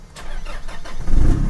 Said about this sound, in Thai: เหยียบเบรกสตาร์ทได้เลย